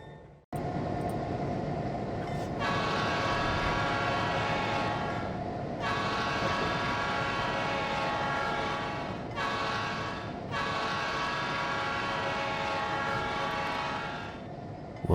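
Freight locomotive road power backing slowly to couple onto a train, a close, loud diesel engine drone with horn-like tonal blasts starting and stopping several times over it.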